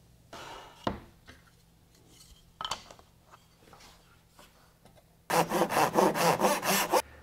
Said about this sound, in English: I'm just going to cut a little piece off for my spacer.